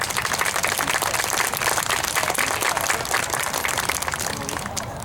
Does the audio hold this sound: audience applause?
yes